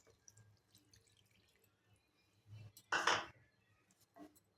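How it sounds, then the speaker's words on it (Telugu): A small glass of water is tipped into a pan of aloo kurma cooking on a stove, one short splashy pour after faint kitchen clatter. "ఒక చిన్న గ్లాస్ వాటర్ పోసుకుని ఇవి ఉడికించుకుందాము"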